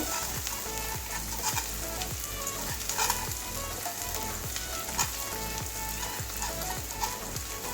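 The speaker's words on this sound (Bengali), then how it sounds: "এবারে এটা একটু নাড়িয়ে নেব দুই এক মিনিটের জন্য এটা নাড়িয়ে নেব ভালো করে একটু ভাজা ভাজা হয়ে যাবে" Masoor dal with fried onion and garlic sizzles steadily in a pan, a constant crackling hiss with soft periodic scrapes of stirring, close and with no voices.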